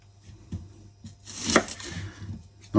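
A knife slices two small onions into strips on a cutting board, giving a few irregular soft chops and taps, close and moderately quiet, with a sharper crunchy cut in the middle.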